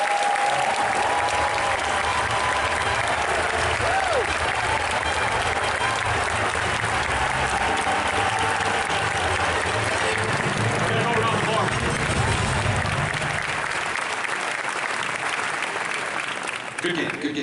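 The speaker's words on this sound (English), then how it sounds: "give a round of applause to Walt Disney Imagineering and to Lucasfilm members" A large convention audience applauds loudly and continuously at a Disney Parks panel at Star Wars Celebration Orlando, with steady clapping and some crowd voices throughout, fading near the end.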